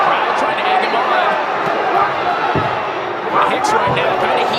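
Boxing arena crowd during a fight between Joseph Hicks and Antonio Todd, a steady loud roar of cheering and shouting urging a fighter on as he works along the ropes, with a couple of dull thuds beneath.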